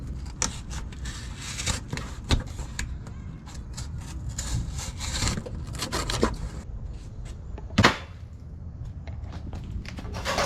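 Someone trims a cardboard template for an RB25DET S13 project up close, making a steady stream of scraping, rubbing cuts with irregular rhythm and one sharper knock partway through.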